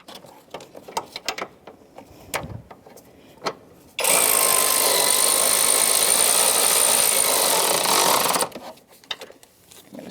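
A power tool tightens a rear driver's side transmission mount bolt on a 2007-2010 Chrysler Sebring. Loud, steady whirring runs for about four seconds, preceded by scattered clicks and light metallic handling noises.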